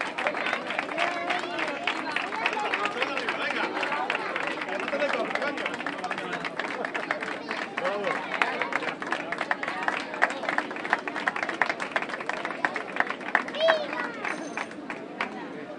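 A crowd claps steadily for a prize winner at a veterans' category awards ceremony after a popular running race, a dense patter of many hands mixed with an announcer's voice and background chatter.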